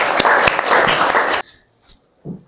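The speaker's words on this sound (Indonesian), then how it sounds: "Tepuk tangan untuk teman kalian dulu." Students in a classroom clap for a classmate, a short, loud burst of applause of about a second and a half that stops abruptly, followed by near silence and a faint thump.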